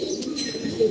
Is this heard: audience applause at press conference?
no